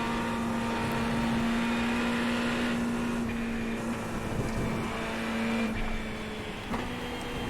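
GT race cars including a BMW, Porsche and Ferrari at Le Mans in iRacing, a steady loud engine drone holding pitch with brief shifts and drops as the cars run side by side toward the Porsche curves.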